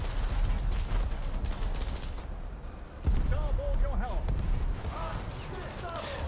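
Ship gunners fire during a World of Warships naval battle, producing dense rumbling volleys and sharp bursts in a continuous din, while a voice speaks over the gunfire.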